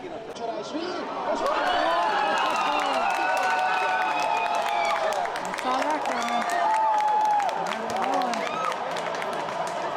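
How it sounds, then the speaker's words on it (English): Football match crowd in Budapest roaring and cheering in a steady, dense wash of voices with scattered clapping, loud and sustained throughout, with individual shouts rising out of the mass. "And the crowd goes wild"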